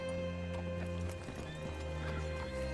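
A horse in Red Dead Redemption 2 clip-clops with quick hoof steps and a short whinny. A low, steady tonal hum sits underneath, and the whole thing is fairly quiet.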